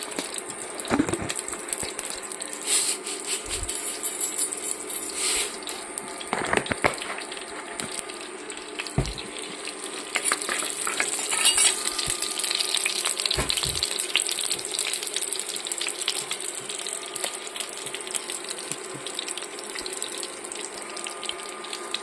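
Mustard seeds spluttering in hot coconut oil in a pan, a steady crackling sizzle with scattered sharper pops throughout.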